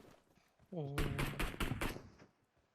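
Gunfire in PUBG Mobile, a quick burst of five or six sharp automatic shots following a short tonal sound, with talk around it.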